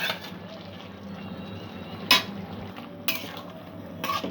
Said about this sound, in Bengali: এই পেঁয়াজ আর ক্যাপসিকামটা দিয়ে দেবো।